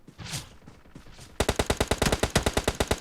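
Gunfire from the battle-royale game PUBG Mobile on the Erangel map: a rapid automatic burst of about twenty loud, evenly spaced shots, following a quieter stretch of distant rumble and softer shots.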